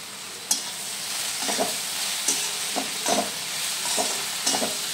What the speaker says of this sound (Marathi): चांगलं आता आपण त्याला हलवून घेऊ